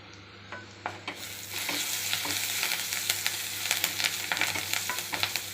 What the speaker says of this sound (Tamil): பச்சை வாசனை போடுற வரை இது நல்லா வதக்கணும்